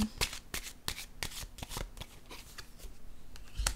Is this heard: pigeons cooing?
no